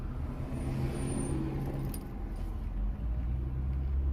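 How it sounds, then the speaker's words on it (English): Cars pass on a town road nearby, their low tire and engine rumble rising and swelling toward the end, with a faint high whine and clinking sounds over the traffic. "cars."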